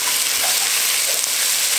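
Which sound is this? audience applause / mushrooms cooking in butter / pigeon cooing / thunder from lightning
mushrooms cooking in butter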